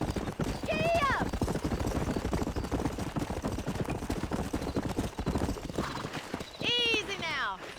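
Horse galloping in the video game Red Dead Redemption, rapid rhythmic hoofbeats running continuously with a neigh near the start and another near the end, while a voice talks over it.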